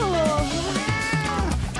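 Cartoon cat meowing in a rising, wavering cry with clear harmonics, a short animated vocalization sitting over faint background music and sound effects.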